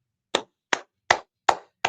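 A crowd at a gathering claps in unison, giving five sharp, evenly spaced claps in a steady rhythm with silence between them and no talk.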